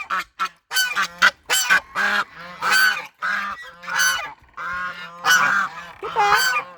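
Geese honk loudly and repeatedly at close range, a dense chorus of overlapping harsh calls from a flock being put to bed for the night.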